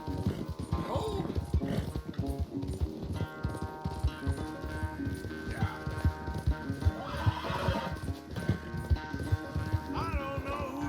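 Horses gallop and clip-clop through a race in the Red Dead Redemption 2 video game, hoofbeats rapid and continuous with whinnies and neighs breaking in, set under game music and occasional voices.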